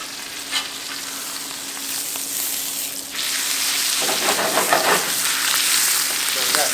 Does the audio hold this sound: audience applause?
no